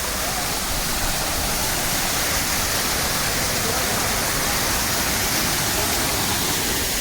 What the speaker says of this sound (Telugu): చూస్తున్నారా వాటర్ ఫాల్స్?